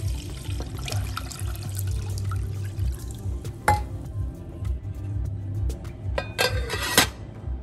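Nearby, a liter of water is poured into a pot for boiling, a low continuous gurgling stream with occasional splashes and clinks, and no speech.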